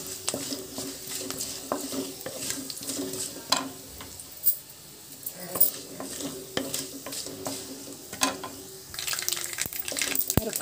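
Two green chillies sizzle in hot oil in a pan while cabbage is being cooked, a steady crackling hiss with occasional sharper pops and stirring clatter throughout.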